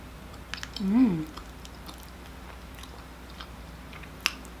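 Someone bites and chews a spoonful of hot vegan butternut squash from a bowl, one soft close bite followed by faint mouth sounds and small clicks in a quiet room.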